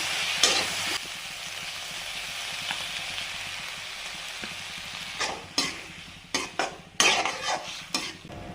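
Capsicum and onion stir-fried in a pan with vinegar, soy sauce and ketchup for crispy baby corn, giving a steady sizzle broken by sharp scrapes and clacks of a spoon stirring against the pan, close and with no talking.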